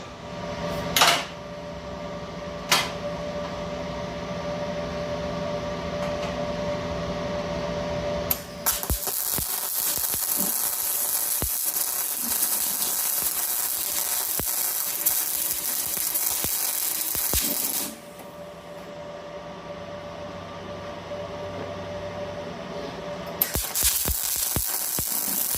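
A Decapower 200A MIG welder runs a bead on steel test pieces with C25 shielding gas, a loud steady crackling hiss lasting several seconds after a few mechanical clicks, stopping briefly and then resuming.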